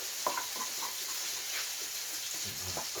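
A broccoli fritter sizzles softly in a pan, a steady frying hiss with small pops and faint stirring noises close by.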